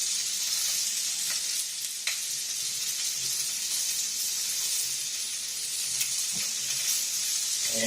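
Filet mignon sizzles steadily in a pan of hot olive oil, a bright, continuous frying hiss broken by a few small pops and crackles.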